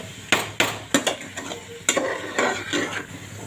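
Beef curry with ground cumin, lentil and spice paste is stirred in a frying pan, with a spoon scraping and knocking against the metal in irregular strokes over a soft sizzle, close up and with no voices.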